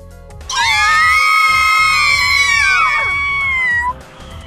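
A loud, high, sustained scream rings out on an amusement park ride in the video game Tokyo School Life, rising and wavering for about three seconds before breaking off, with quieter background sound around it.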